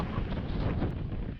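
Wind on a sailboat under sail at about 10 knots, a steady rushing buffet across the microphone with low rumble throughout, no talk.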